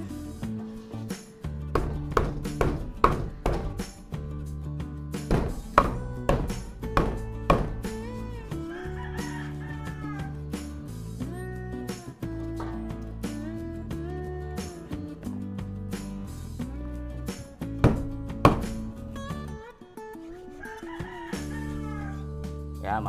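A knife chops beef skin on a cutting board for balbacua, giving a series of sharp, regular thuds up close, while a rooster crows and clucks loudly throughout.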